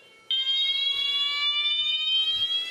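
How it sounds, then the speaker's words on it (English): An X10 fire alarm horn going off during a system test, a loud, steady, piercing electronic tone that starts abruptly and holds continuously, heard close in a quiet room. "And the horn's going off."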